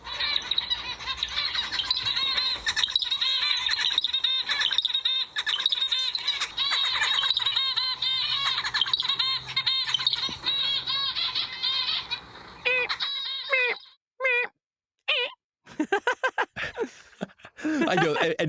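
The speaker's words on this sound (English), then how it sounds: "the video of zebra finches singing" Zebra finches chatter and sing in a dense, busy chorus of chirps and nasal calls that later thins into scattered individual calls with brief gaps.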